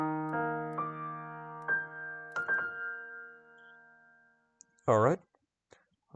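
A short run of synthesized virtual piano notes playing a piece from Kingdom Hearts, several tones sustaining and overlapping, ending with a brief bright burst; no talking.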